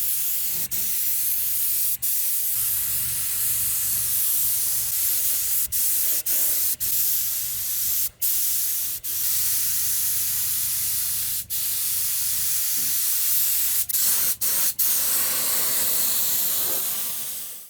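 Spray paint hissing onto a Land Rover cab roof, a steady close aerosol hiss lasting throughout, broken by a few brief pauses and clicks.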